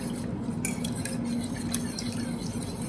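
Whisk stirring roasted chana sattu sharbat in a glass, with light clinking and swishing strokes at moderate level over a steady background hum.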